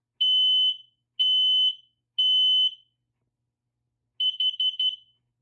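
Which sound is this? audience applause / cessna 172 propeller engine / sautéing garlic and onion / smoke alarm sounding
smoke alarm sounding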